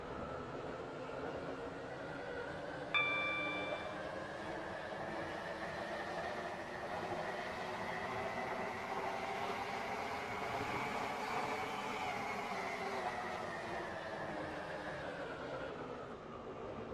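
A train in the video game Stepford County Railway rolls along its rails with a continuous rumbling drone. A brief electronic chime sounds early, and the pitch swells slightly as it runs.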